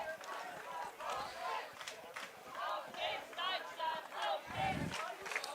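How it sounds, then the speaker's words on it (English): Swedish fans cheer and shout together at a women's lacrosse match between Sweden and Germany, with a steady crowd roar and repeated vocal bursts carrying across the whole stretch at a moderate distance. "The cheers are going."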